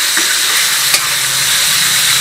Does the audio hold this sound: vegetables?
yes